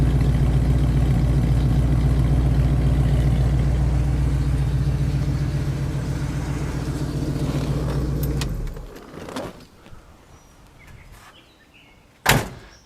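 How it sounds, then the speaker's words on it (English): A 1967 Oldsmobile Delta 88 or 1966 Toronado big-block V8 idling with a low, steady rumble that cuts off about two-thirds through, followed by quiet and a sharp clunk near the end. "Love the sound of a big block in the morning."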